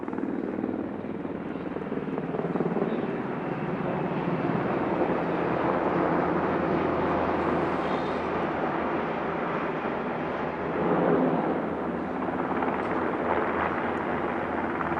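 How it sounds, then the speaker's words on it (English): Royal Australian Navy S-70B2 Seahawk helicopter flies at an RAAF anniversary airshow, a continuous loud rotor and turbine roar with a slight swell as it passes, steady throughout. "the S-70B2 Seahawk helicopter of the Royal Australian Navy"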